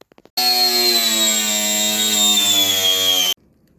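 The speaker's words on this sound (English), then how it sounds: "So I've got my jigsaw here, and I'm just going to make a little cut" A jigsaw whines loudly and steadily for about three seconds cutting a Nissan NV400 van's metal panel after a few faint taps, then stops abruptly.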